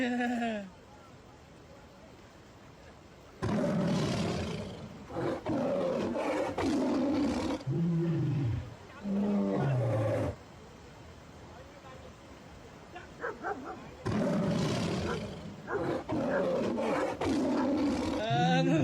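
A tiger facing a dog gives several loud, deep roaring bursts and snarls up close, separated by quiet gaps, with some faint voices in the background.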